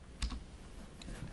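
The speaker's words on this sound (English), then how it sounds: "We disable and enable by pressing the key." A single key press on a computer keyboard, a soft close click followed by a second faint tap, with quiet room noise.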